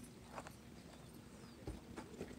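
A horse walks on a ranch, its hooves giving a few faint, uneven clip-clops over a steady background hiss.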